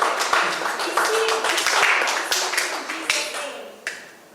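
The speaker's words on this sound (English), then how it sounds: "No, you can clap, man. Something like that deserves clap." Scattered audience clapping at a market research presentation and awards ceremony, a loose patter of hands that thins out over a few seconds, heard under a background voice.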